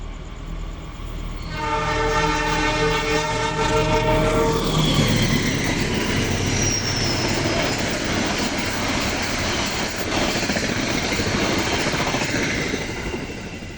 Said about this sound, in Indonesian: Yang baru melintas langsung adalah kereta api Gajayana.